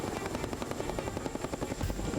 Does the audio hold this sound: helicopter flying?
yes